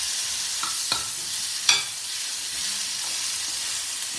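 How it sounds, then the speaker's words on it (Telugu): Mushrooms frying in a pan with cooked-down tomato give off a steady close sizzle, with a few sharp stirring scrapes partway through and no talking. "ఇప్పుడు మనం మష్రూమ్స్ వేద్దాం"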